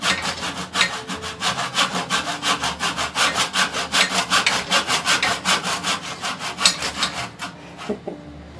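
Hand saw cutting through wood while shaping a Greenland paddle, a steady run of about thirty rhythmic back-and-forth rasping strokes, close and loud, ending with a brief knock and quiet.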